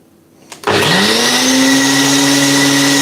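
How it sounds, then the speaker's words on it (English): A blender switches on abruptly and runs at a loud, steady whirring pitch, its motor tone rising slightly as it settles into continuous blending. "We are about to blend."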